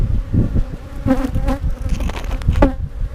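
Honey bees buzz thickly around a hive frame holding pollen, nectar and brood, a close, dense drone with individual wingbeats rising and falling.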